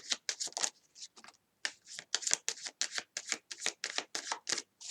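A deck of tarot cards is shuffled in quick repeated riffles, crisp rapid flutters in a steady rhythm with short pauses, close and fairly quiet.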